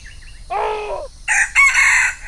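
Jungle fowl in a flock crow among the trees of a palm plantation, with one crow followed closely by a louder, longer one, both near and clear against quiet surroundings.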